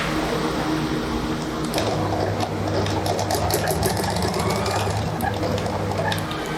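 A sewing machine runs steadily while stitching the hem of a trouser leg, a continuous close mechanical whir with a rapid needle rhythm and no talking.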